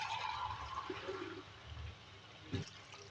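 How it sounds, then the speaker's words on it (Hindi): Water poured into a cooking pot of potato, cabbage and bell pepper curry, a steady liquid splash that fades out, followed by a brief clunk near the end. "इसमें 1 कप पानी ऐड करेंगे"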